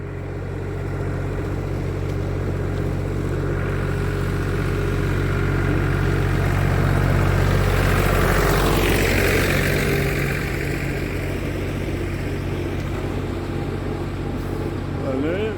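A tractor engine runs steadily nearby on a walking route, its low rumble holding throughout and swelling slightly louder in the middle as it passes closest, with no talk over it.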